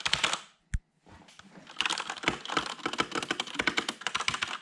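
Fast, continuous typing on a Corsair K63 wireless keyboard with Cherry MX Red switches: dense, light key clatter close up after one brief pause, with no voices.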